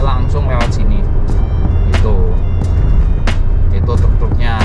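Trucks driving along a toll road, a steady loud engine and road rumble with repeated sharp clatters and bangs passing close by, while a voice talks over the traffic.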